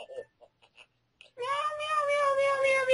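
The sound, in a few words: pet cat meowing in the background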